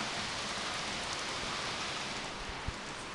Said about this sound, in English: there's lots of thunder and pouring rain